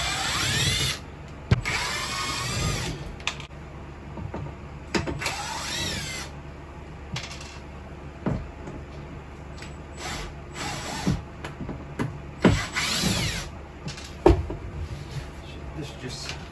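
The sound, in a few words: power driver removing Torx screws from plastic molding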